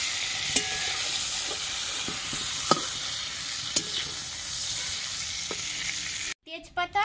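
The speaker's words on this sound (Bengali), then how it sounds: "চিংড়ি মাছগুলো ভেজে নিচ্ছি" Prawns frying in oil with an even, continuous sizzle and occasional sharp spatula taps against the pan, cut off abruptly near the end by a brief different sound.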